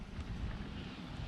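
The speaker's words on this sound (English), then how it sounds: "I'm sorry for the wind." Wind buffets a microphone outdoors beside a Dodge Charger under repair, a low, rumbling gusty roar that stays fairly faint and unbroken, with no speech.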